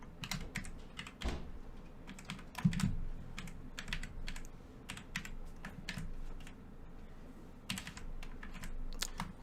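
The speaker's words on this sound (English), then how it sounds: "I got to type in on an unfamiliar keyboard" Fingers tap out irregular bursts of keystrokes on an unfamiliar computer keyboard, close and crisp, with short pauses between clusters, alone without speech.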